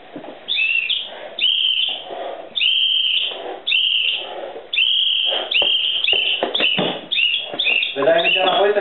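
A toddler whistles around the house in short repeated toots, several bursts in a row, close and fairly loud, with a voice and background chatter mixed in near the end.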